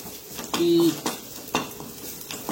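Tempering spluttering in a hot pan for a prawn and okra (ladies finger) sambar, a short crackling sizzle with soft utensil clinks, fairly close and without talk.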